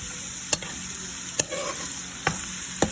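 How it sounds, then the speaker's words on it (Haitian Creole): Rice and stew being stirred together in a pot for Haitian diri kole, several sharp scrapes of the spoon against the pot over a steady soft sizzle, close and alone. "On va brasser les pour mélanger tout bagage ensemble."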